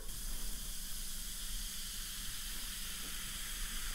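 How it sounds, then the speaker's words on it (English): Magic Mixies toy potion fizzing in a cup with a steady, close, broadband hiss that holds evenly throughout. "Oh, it's fizzing."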